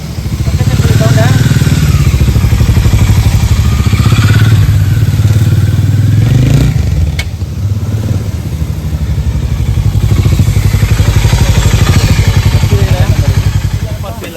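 A Hero Xpulse 200 motorcycle on a test ride, its engine running loud and close with a constant chugging drone and a brief dip midway before pulling again.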